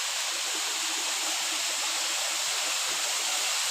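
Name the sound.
Tat waterfall rushing water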